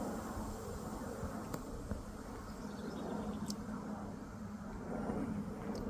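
Honeybees drone softly and continuously around a newly installed nuc hive, a thin steady buzz with a few brief louder passes as individual bees fly close.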